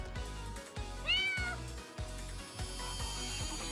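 A cat in the action game Umbra Claw gives a single clear rising-and-falling meow over a pulsing rhythmic game music track with a heavy repeating beat.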